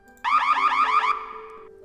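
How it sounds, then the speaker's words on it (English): A synthetic warbling alarm from the Shrek 2 game's sound browser sounds loud and close, rising and falling rapidly for about a second before cutting to a softer trailing tone. "Let's have it play some alarm."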